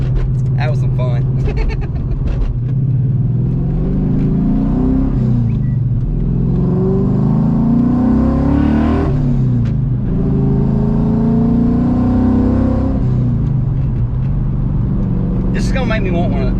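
A Coyote-swapped 1997 Ford Mustang Cobra engine revs loudly and steadily from the cabin, climbing and dropping through short-shifted gears, with people talking over it.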